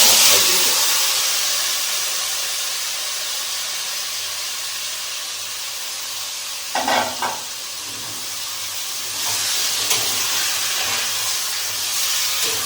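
Spiced mashed potatoes hit hot oil in a kadai already holding dried red chilli and nigella seeds, giving a loud steady sizzle and hiss, with a couple of brief louder bursts as the pan is stirred.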